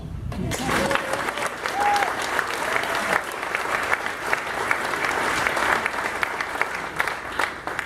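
A concert audience at a summer orchestra performance breaks into sustained, dense applause that starts abruptly and holds steady for several seconds, with a brief whistle near the start and some voices mixed into the crowd noise.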